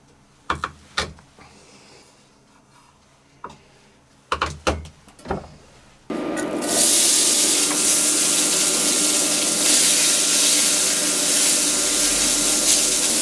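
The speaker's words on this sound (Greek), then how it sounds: "Θα τα σοτάρω σε 2 κουταλιές ελαιόλαδο." A few kitchen clatters and knocks come first, then finely diced onions hit two spoonfuls of hot olive oil and burst into a loud, steady sizzle that carries on unbroken to the end.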